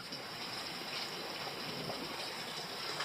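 A stream flows below a forest campsite, a steady soft hiss of running water, constant and even throughout, faint and alone without voices.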